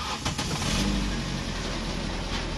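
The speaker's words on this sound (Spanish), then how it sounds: "vamos a arrancar el carro" A Nissan Sentra engine with a P0300 random misfire fault, heard close up as it cranks and catches, then settles into a continuous rumbling run.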